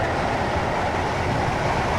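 Passenger train in the Stepford railway video game, a steady rumbling run with a constant broadband roar and faint rhythmic rail noise, loud and unbroken, with no voices over it.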